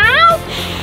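A person's voice imitates a cat with a single loud, close meow that rises and falls, at a bobcat exhibit during an outing at a Diamondbacks game.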